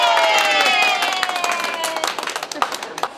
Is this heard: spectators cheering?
yes